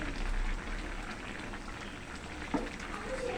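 A pot of broccoli and tengra fish curry simmers on the stove, a soft continuous bubbling with faint liquid pops, low and close, and one brief clink partway through.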